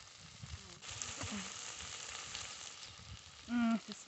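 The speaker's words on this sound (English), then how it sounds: "we just wait until the tomatoes are cooked down" Tomatoes and onions sizzle steadily in a pan for a traditional Zambian dish, a soft continuous frying hiss with a brief louder clatter or tonal sound near the end and no talking.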